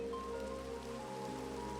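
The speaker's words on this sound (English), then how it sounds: "I want it to stop raining" Rain falls steadily as a soft, continuous hiss in the Minecraft video game, with a low tonal hum underneath and no talk.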